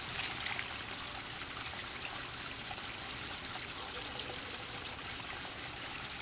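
Water from a fish bag is dumped out while goldfish and koi are being acclimated for a pond, a steady, close splashing pour that runs continuously without pause.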